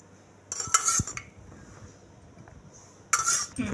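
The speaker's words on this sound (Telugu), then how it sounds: "ఫస్ట్ ప్యాన్ పెట్టుకోవాలి, ఆయిల్ వేసుకోవాలి." A pan set on a stove with oil poured in, heard as two short bursts of metallic clattering and clinking with a quiet pause between them.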